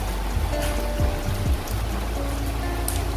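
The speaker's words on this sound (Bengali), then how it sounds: "এখন প্রচুর পরিমাণে বৃষ্টি হচ্ছে আমাদের এখানে" Heavy storm rain pours down in a steady, dense rush that fills the whole stretch, close and loud, with no one talking.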